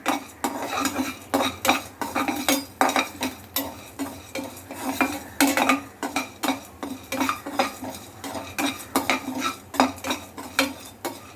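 Dal dry-roasting in an empty pan without oil, a spoon scraping and clinking against the metal in a quick, regular rhythm of close, sharp strokes with faint rattling of grains.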